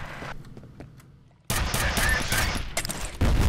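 Gunfire in the F.E.A.R. first-person shooter video game, a sudden loud burst of rapid automatic shots after a quieter stretch, continuing densely with a final heavy blast near the end.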